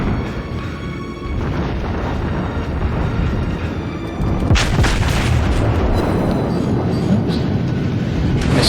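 Heavy battleship guns firing in World of Warships aboard the South Carolina, deep booming blasts rolling continuously over a dense rumbling battle soundscape, with a sharper burst around the middle.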